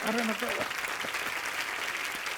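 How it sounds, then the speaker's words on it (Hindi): Steady applause from a crowd fills the clip, with a voice speaking briefly over it at the start. "आप सबकी जोरदार तालियों के बीच"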